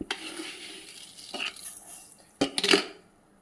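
A spoon stirs two teaspoons of dry sugar in a dry pan over raised heat for pudding caramel, giving a few quiet scrapes and sharper metallic clinks, with a brief cluster of clinks near the end.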